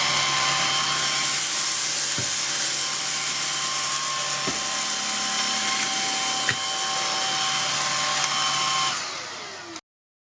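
A Vistefly VX cordless stick vacuum (23 kPa, 250 W) sucks up cornflakes with a loud, steady motor whine and airflow hiss, broken by a few sharp clicks, then powers down abruptly at the end.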